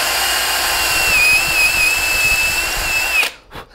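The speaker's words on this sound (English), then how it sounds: "I like to drill a little bit" A power drill whines steadily at high pitch for about two seconds, boring into a wooden acoustic guitar headstock, then winds down and stops, followed by a brief softer burst.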